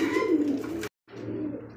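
Pigeons coo softly in low throaty burbles, close by, broken by a brief silent gap before the cooing resumes.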